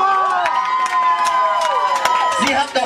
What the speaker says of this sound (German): Also da tut denn aus dem Fanclub einen ganz dicken Applaus in unserem Fanclub